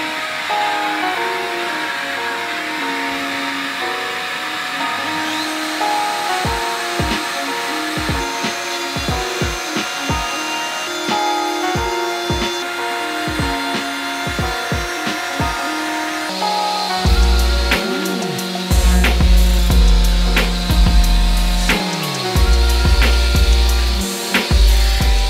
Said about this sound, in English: I think it will look really nice if I give these edges a nice chamfer with the router